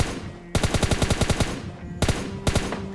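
Automatic gunfire in PUBG Lite rattles in a fast burst of about a dozen loud shots, then pauses before two more single cracks.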